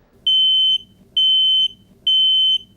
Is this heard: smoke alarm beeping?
yes